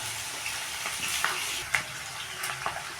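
Food frying in a pan until reddish, a steady close sizzle with a few sharp pops and stirring scrapes over about three seconds, no voices.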